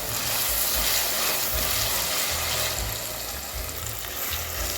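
Ginger garlic paste frying in a pan, a continuous close hissing sizzle with a faint low rumble beneath, steady throughout and without speech.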